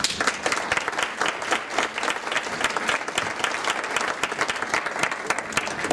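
A conference audience gives a speaker steady, vigorous applause, many hands clapping in a full, continuous burst with no voices over it.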